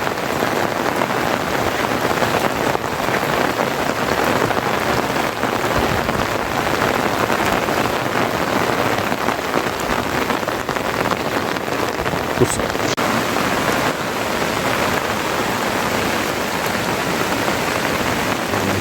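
Heavy monsoon rain pours steadily in the Konkan region, a dense unbroken roar of drops close by with no letup and no voices.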